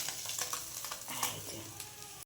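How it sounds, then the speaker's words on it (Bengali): Small fish fry in a hot pan with a continuous, crackling sizzle, broken by occasional scraping and stirring noises close up. "এখানে হচ্ছে মাছ ভাজা"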